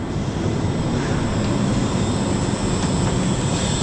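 A 1974 Mack R Model truck engine runs with a loud, steady whine and rumble, constant and close throughout with no talk.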